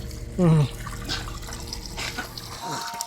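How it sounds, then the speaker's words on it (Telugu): Water runs quietly at an outdoor dish-washing spot in a tribal village in the Araku area of Andhra Pradesh, a soft steady flow with a short louder splash and people talking over it. "ఈ వాటర్ ఉంది కదా మొత్తం గిన్నెలు ఇలాంటివి ఏమైనా కడగాలంటే ఇక్కడ కడుక్కుంటారు"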